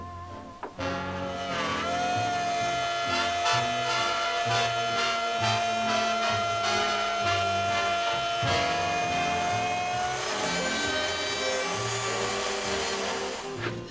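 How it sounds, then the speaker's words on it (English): A router cutting a maple picture frame insert, a loud, steady high-pitched motor whine with a harmonic buzz that holds for about thirteen seconds after starting, pitch shifting slightly under load, close and alone. "I'm about to route out the part from the insert."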